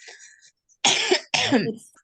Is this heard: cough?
yes